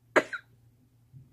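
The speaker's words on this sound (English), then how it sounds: "so I have this cough" A single sharp cough up close, followed by a smaller second cough and a faint throat sound, in a quiet room.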